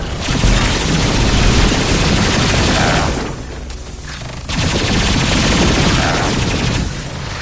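Loud, dense enemy gunfire in the game Mass Effect 2, sustained rattling bursts with booming impacts that dip briefly midway before resuming at full intensity, with no talking.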